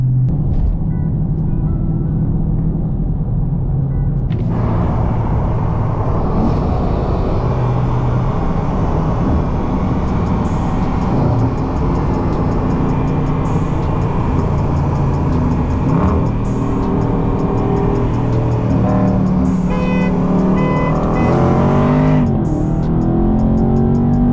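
A Dodge Charger Scat Pack and a Ford Mustang GT 5.0 drive on the road together, their engines rumbling loud and close, with surges as the revs climb and fall and steady road noise underneath.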